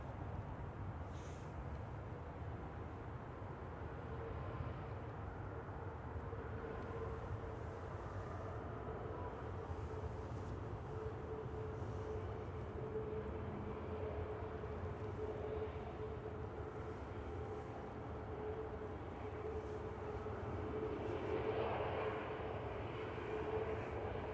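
A Ryanair airliner at Manchester Airport gives a faint, distant engine hum with a low steady tone, swelling gently toward the end, with no talking.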